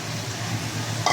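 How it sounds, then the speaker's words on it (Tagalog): Kalamansi juice and small salay fish go into a simmering cooking pot, giving a steady sizzle and stirring hiss with a brief brighter splash of liquid near the end. "Lagay na natin yung kalamansi juice. Sabay na rin natin yung ating salay-salay."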